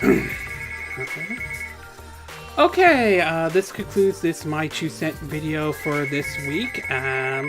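A mobile phone rings with a steady, repeating electronic tone that continues for several seconds beneath a man's speech, near and fairly prominent.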